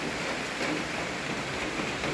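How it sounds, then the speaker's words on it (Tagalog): Heavy rain pours down in a continuous, dense hiss with no voices, steady and fairly loud from start to finish. "Lumakas po ang ulan po mga kababayan."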